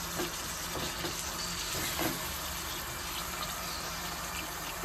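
Mutton pieces with onions sautéing in a pot for a shaljum gosht curry, giving a steady close frying sizzle with soft occasional stirring scrapes, no talking.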